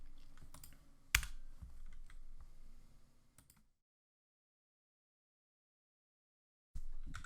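A website address typed on a computer keyboard, a quick run of close, light clicking keystrokes for a few seconds, then silence, with a brief burst of sound at the end.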